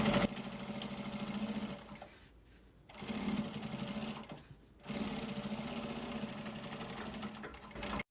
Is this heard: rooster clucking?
no